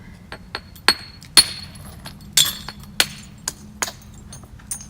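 A hammer strikes obsidian to knap off flakes, producing about a dozen sharp, glassy clinks and cracks in an irregular rhythm, close and fairly loud over a low background hum.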